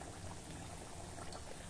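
Kachori pastries deep-frying in hot oil, a dense, even bubbling crackle that stays steady and fairly quiet throughout, with no talking.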